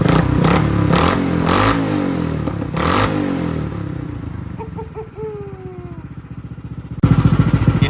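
A Tillotson engine on a drift trike revs several times at close range, with rising and falling throttle blips and some clatter. It drops back to a rough idle, then bursts loudly again at the end.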